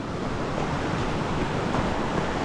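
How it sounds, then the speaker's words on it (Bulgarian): Loud, steady rush of water on a mountain trail near Karlovo, Bulgaria, a dense continuous roar like surf or a fast stream close by, with no voices. "наистина е много шумно от водата"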